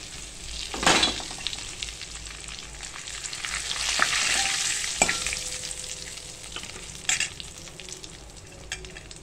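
Curry leaves, turmeric and asafoetida sizzling in hot oil for bhaji rassa, a steady crackling hiss that swells as the leaves go in, with sharp spatters and a few utensil taps throughout, no talk.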